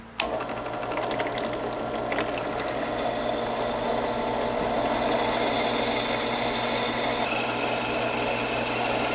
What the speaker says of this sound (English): we got a 3/16 drill bit right here